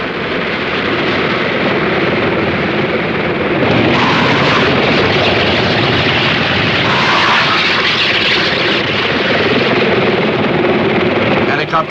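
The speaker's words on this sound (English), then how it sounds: "Helicopters and hovercraft close in on an enemy hideout." Helicopters and hovercraft close in on an enemy hideout across a vast reed plain near the Cambodian border, a loud, continuous roar of engines and rotors that swells slightly and holds steady, with narration running over it.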